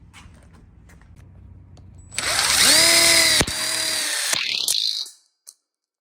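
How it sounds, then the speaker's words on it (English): Power drill driving screws into the top of a welded split bar counter kit for an outdoor kitchen, a loud whirring burst of about three seconds that rises, briefly dips, then winds down and stops, with no talk over it. "we're gonna go ahead and put our screws in the top here"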